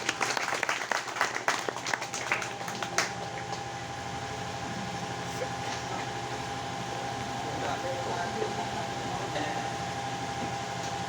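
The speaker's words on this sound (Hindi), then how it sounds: "उनके सम्मान में आप लोग जोरदार तालियां बजाएं" Brief burst of audience clapping at a Hindi poetry gathering that dies away within a few seconds, leaving a steady hum of fans or air conditioning and faint room noise.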